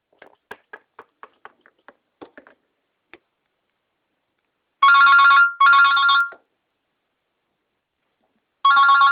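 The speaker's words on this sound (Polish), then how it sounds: "telefon!" After a run of light ticking taps, a telephone ringtone sounds in loud electronic bursts, two close together, then a pause before a third begins.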